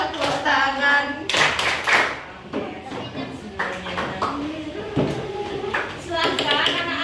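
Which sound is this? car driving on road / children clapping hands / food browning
children clapping hands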